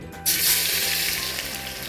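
Garlic and bay leaves hit hot oil for a mutton sukka tempering, and a sudden burst of sizzling erupts after a quiet moment, then settles into a bright, steady hiss.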